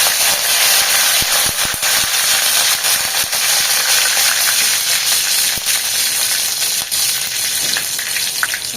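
Dense, steady crackling and popping of spices and curry leaves tempering in hot oil for sambar, loud and close, with sharp pops scattered throughout and no voices.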